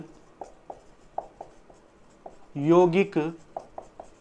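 Chalk taps and scrapes against a board as a teacher writes during a class 10 science lesson on carbon compounds, making short, spaced, dry clicks with a stretch of speech in the middle.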